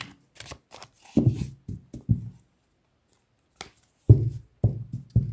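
A deck of tarot cards is shuffled by hand in bursts of riffling and soft slaps, with short pauses between them, close and quiet.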